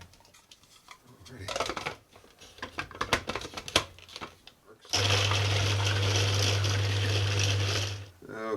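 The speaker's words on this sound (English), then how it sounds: "next I need to mince the garlic, onions, and ginger" Garlic, onions and ginger are minced in an electric chopper, first with a series of short uneven pulses and clicks, then a loud steady motor whir running for about three seconds before stopping; a voice speaks briefly at the start.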